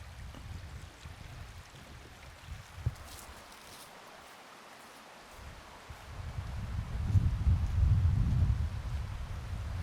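Archer's Fork Creek in Ohio's Wayne National Forest flows in a steady low rush, swelling louder toward the end, with faint rustling around it and no voices.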